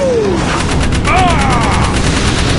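Rapid bursts of gunfire from the Jak 3 video game as eggs are shot, loud and continuous machine-gun chatter with whooshing effects layered in.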